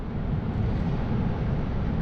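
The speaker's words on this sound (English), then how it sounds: "looks like the wind is kind of moderate at the moment" Strong wind roars continuously on an exposed seaside cliff during a rainy night camp, a dense, loud rumble buffeting the microphone with no pauses.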